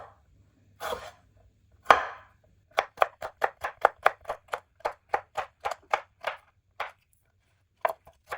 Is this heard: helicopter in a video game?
no